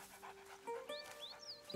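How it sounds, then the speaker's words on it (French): A dog pants in quick, soft breaths within the video game A Plague Tale: Innocence, heard close and fairly quiet among light game music tones and chirps. "une petite interaction avec le chien"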